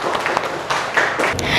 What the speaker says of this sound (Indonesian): Oke, tepuk tangan buat Ayi.